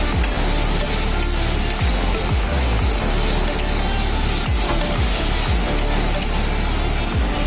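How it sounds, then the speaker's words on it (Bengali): Spice paste fries and is stirred in a pan while cooking yogurt chicken, with a steady hiss of sizzling and repeated soft scraping strokes of a spoon throughout, close and moderately loud. "মশলাটাকে ভালো করে কষিয়ে নেব।"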